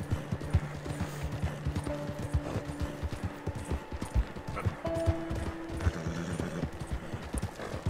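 Horse hooves clip-clop in a steady trot uphill in Red Dead Redemption 2, with a rhythmic run of close hoofbeats over light game music and ambience, and a brief neigh.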